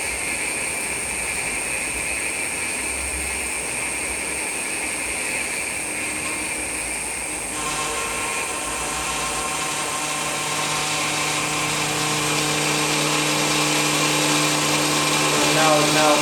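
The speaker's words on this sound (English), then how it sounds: "And now it's pumping the fuel again." An ADS1000MOB diesel fuel polisher hums and whines steadily as it pumps fuel, a loud continuous machine drone that shifts pitch partway through and then holds, with no speech over it.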